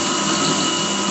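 An electric kitchen grinder whirs loudly and steadily as it grinds finely grated coconut, a continuous close motor drone.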